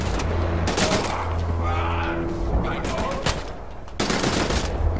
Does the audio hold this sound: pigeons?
no